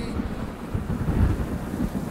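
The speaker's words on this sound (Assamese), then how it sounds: "উফ, সঁচাকৈ আহি গ'ল বৰষুণ" Rain arriving with a low rumble of thunder, a steady wash of falling rain under a deep rolling boom that swells briefly in the middle of the short clip.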